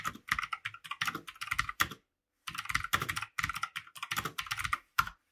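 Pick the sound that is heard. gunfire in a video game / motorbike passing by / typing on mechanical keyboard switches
typing on mechanical keyboard switches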